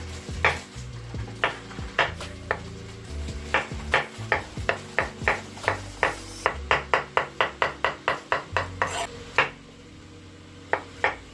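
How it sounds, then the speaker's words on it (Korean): A knife slices mushrooms on a cutting board in a steady run of crisp, close taps, roughly two dozen even strokes that speed up midway, with faint kitchen sizzling underneath. "다음은 버섯을 3개에서 4개 썰어줍니다"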